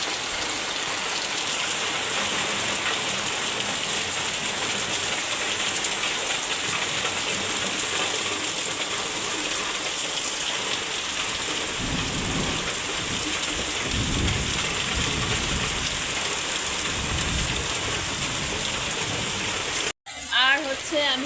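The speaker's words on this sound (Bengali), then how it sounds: "আরে কি বিশাল বৃষ্টি, সব ভেঙে চলে যাবে মনে হচ্ছে" Heavy rain pours steadily on a village during a storm, with deep thunder rumbling through the middle stretch and a voice speaking over the constant downpour near the end.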